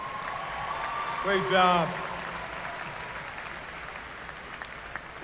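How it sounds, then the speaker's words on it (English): Steady applause from an audience at a 2022 spring university commencement ceremony, a broad wash of clapping throughout, with a voice briefly speaking over it. "Let's give them another round of applause."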